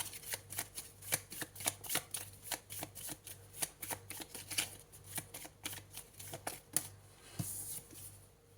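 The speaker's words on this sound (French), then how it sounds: "On va compléter avec une autre carte." Oracle cards being handled and drawn from a deck, a series of crisp, close paper flicks and snaps in an uneven rhythm, each one short and distinct over a quiet room.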